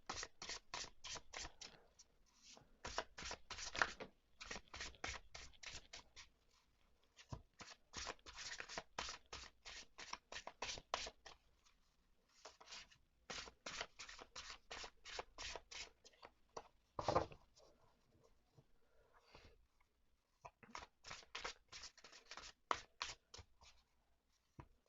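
Tarot cards are shuffled by hand in repeated bursts of riffling and sliding, close up, with short pauses between each round.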